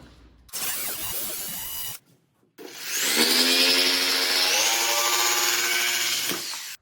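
A roughly 2.5 by 4 foot plastic sheet is cut for building a turkey transport box. There are two loud, rasping bursts of cutting with no voices: a short one, a brief pause, then a longer steady run.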